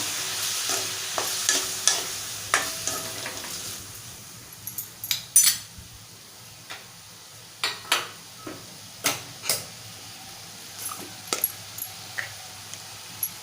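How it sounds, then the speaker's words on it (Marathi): Potato pieces and capsicum stirred in a pan, with a series of close scraping and clinking spoon strokes in an irregular rhythm over a soft sizzle, no speech. "बटाट्याच्या फोडी घालूया मिक्स करूया"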